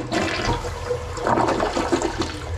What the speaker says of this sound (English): You give it a flush.